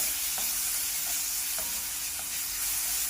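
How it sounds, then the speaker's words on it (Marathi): Green chillies sizzle and fry in hot oil in a pan for Kolhapuri kat vada, with a steady crackle and a few soft stirring scrapes, close and alone without talk. "मिरचीचा कच्चेपणा जाईपर्यंत 1-2 मिनिट हे परतून घेऊया."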